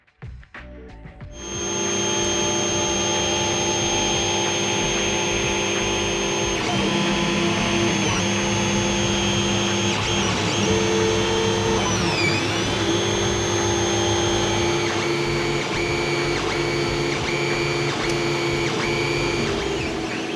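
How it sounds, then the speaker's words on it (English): A 3D printer runs steadily while printing sump pieces for a twin-turbo V12 Supra build, a sustained mechanical whir and hum with shifting stepper-motor tones and occasional pitch sweeps, close and alone with no talking. "this printer is just about to spit out the first of the sump pieces"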